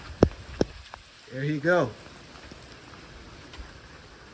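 Rain patters steadily on surfaces around a Honda Element camper, a soft continuous hiss with a few sharper drop taps, while someone speaks briefly under it.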